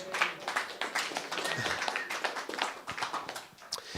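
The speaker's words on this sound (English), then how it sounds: "A round of applause." A small congregation claps during a gathering with music, producing a loose, uneven patter of individual hand claps with distinct sharp hits rather than a dense roar, lasting a few seconds.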